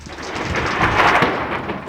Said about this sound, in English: If you hear thunder 10 seconds after seeing lightning, it's time to locate safe shelter.